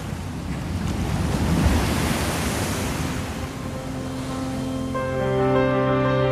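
Sea waves wash onto the shore in a steady broadband roar with wind, surging a little toward the end while a sustained musical tone rises underneath.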